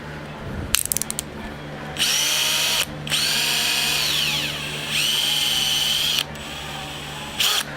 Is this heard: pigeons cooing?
no